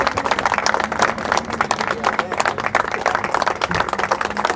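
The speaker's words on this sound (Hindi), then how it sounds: "क्या हम एक जोरदार तालियां बजा सकते हैं माजिद भाई के लिए?" A crowd at a bird-keeping workshop in Hyderabad, Pakistan claps steadily for Majid Bhai, a dense sustained round of applause with no pauses.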